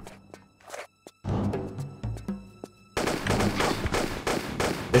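Repeated shotgun blasts from Tomb Raider Chronicles game combat with two enemies, sharp loud reports in quick succession followed by a dense burst of continuous gunfire and clatter near the end.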